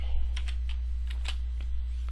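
Typing on a computer keyboard, a few quick, light key clicks scattered irregularly over a low steady hum, close and fairly quiet.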